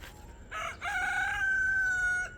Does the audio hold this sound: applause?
no